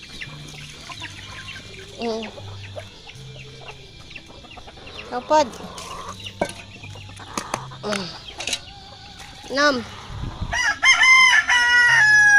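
Chickens cluck and a rooster crows repeatedly on a farm, the calls close and prominent, with occasional speech mixed in among the birds.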